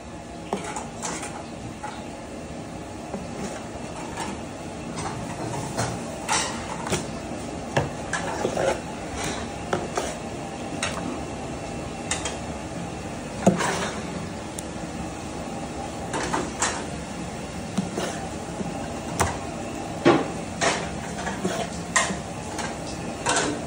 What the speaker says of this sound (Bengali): তার ফিলেগুলো আমি কাটছি